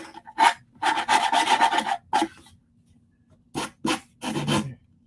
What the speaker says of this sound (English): I just take my little sander.